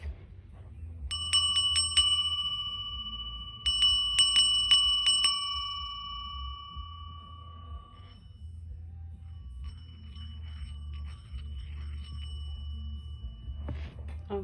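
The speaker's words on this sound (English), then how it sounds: "Virgo, I'm going to ring this bell for you" A small bell is rung in quick bursts of several metallic dings, a first cluster followed by a second, the bright tones ringing on and fading slowly over a low background hum in a quiet room.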